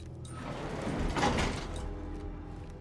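An elevator door sliding in the video game Fallout 4, a rising mechanical whoosh that swells to a peak midway and then eases off, heard alone against a low steady hum.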